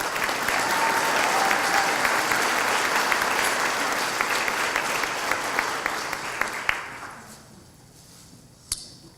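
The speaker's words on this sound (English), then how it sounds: "let's give a great round of applause to Rita Unzer and the Home Builders Association of Greater Chicago for a wonderful year" Audience applause at the Home Builders Association of Greater Chicago awards ceremony, a full room clapping steadily and loudly, then gradually thinning out with a few last scattered claps.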